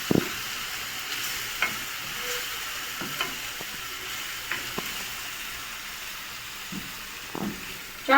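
Garlic paste sizzling in a hot pan, a steady soft frying hiss with faint stirring scrapes and clicks throughout, fairly quiet, no talking.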